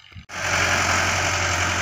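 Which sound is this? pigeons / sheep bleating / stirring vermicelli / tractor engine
tractor engine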